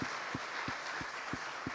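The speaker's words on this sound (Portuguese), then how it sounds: "Mais forte, Ele merece." A church congregation applauding more strongly during a worship service, a distant, fairly quiet wash of clapping with an even, regular pulse roughly every third of a second.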